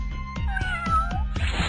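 Summoned cat in the game Epic Battle Fantasy 4: a loud, close, drawn-out meow with a bending pitch rides over a steady rhythmic beat of game music and percussive hits, with no one talking.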